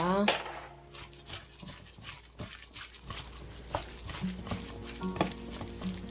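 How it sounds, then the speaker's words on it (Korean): Seasoned pickled cucumber (oiji) with sesame oil is squeezed and mixed by hand in a bowl, giving close, wet squelching and light clinks in irregular bursts, with no talking. "그리고 다시 조물조물 합니다."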